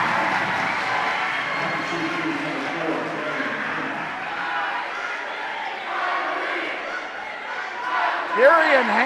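Crowd noise roars through a high school basketball gym as fans cheer for the Grizzlies, a loud sustained wash of voices that swells near the end, with squeaks and an announcer over it.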